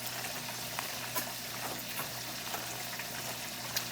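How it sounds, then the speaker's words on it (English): Shrimp garlic Alfredo sauce simmers in a pan with a faint, steady bubbling hiss and a few tiny pops, with no voices present. "simmer just a little bit for like 5 minutes"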